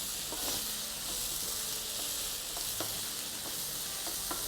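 Curry leaves and fish masala sizzle in coconut oil for a tilapia curry, with a steady close frying hiss and a few faint clicks of stirring, no voices.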